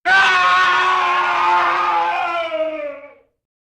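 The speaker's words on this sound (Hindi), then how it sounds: "फिर एक बहुत ही दर्दनाक चीख पूरी गांव में गूंजी।" A long, painful scream rings out in a horror story set in a village. One sustained, loud, tonal wail holds steady for about three seconds, then trails off into silence.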